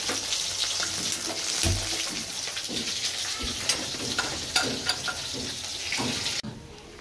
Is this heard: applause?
no